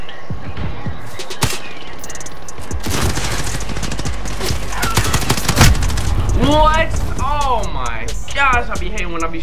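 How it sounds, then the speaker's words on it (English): Rapid gunfire bursts and scattered shots from the video game Call of Duty Modern Warfare on the Scrapyard map, loud and close, with a voice talking over the later part. "Shooting all those bullets and I don't get none of them."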